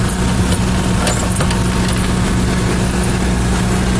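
Continuous low engine rumble of a 2004 Jayco Greyhawk 31 SS Class C motorhome idles steadily with broadband noise, loud and close, unchanging throughout with faint rattling on top.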